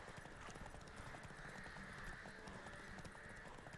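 Horse hooves clip-clop in The Witcher 3 in an even, regular rhythm under a soft, constant game background, fairly quiet and with no talking.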